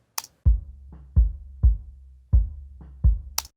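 Sub bass drum track with EQ and compression, six deep booming hits in a loose rhythm with quieter ghost notes between them, each swelling and sustaining smoothly; close up, no voices, with a short click at each end.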